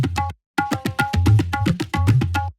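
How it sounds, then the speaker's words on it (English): Two tabla loops layered together in an electronic production, a quick run of crisp dry hand strikes with deep bass resonant strokes, a brief gap near the start, then a dense steady groove up close. "Both these tablas sound like this together."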